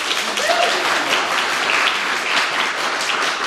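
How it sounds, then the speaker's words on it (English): An audience at a county poetry recitation finals applauds the musicians, a dense, loud, sustained wash of clapping from a large crowd throughout. "How about a big round of applause for our musicians?"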